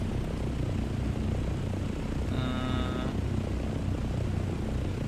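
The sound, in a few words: helicopter flying in the video game Dune Awakening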